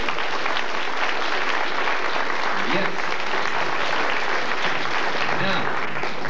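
An audience claps loudly and continuously at a hypnosis show, the dense applause steady throughout with a single voice briefly heard over it.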